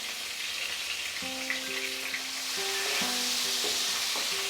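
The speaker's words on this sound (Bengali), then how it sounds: "এবার আমি লম্বা লম্বা করে কেটে রাখা পটলগুলোকেও ভেজে নেব" Long-cut slices of pointed gourd, dusted with turmeric and a little salt, sizzle steadily in hot oil in a pan, a constant close hiss with some low tonal hums and no voices.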